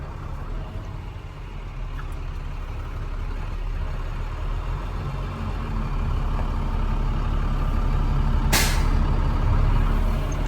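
An International 4300 digger derrick truck with a manual transmission drives through an industrial park, its engine rumbling and rising steadily, with a sharp air brake hiss near the end.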